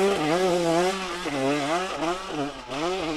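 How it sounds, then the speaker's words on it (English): A 2020 KTM enduro TPI two-stroke motorcycle engine revs and rises and falls in pitch, loud and close, with a raspy buzzing note that surges repeatedly as the throttle is worked. "The TPI engine is running crisp always and it just pushes you forward towards the next corner or obstacle."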